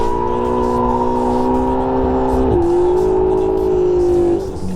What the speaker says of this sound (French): En fait une Ferrari c'est trop bien à faire fumer.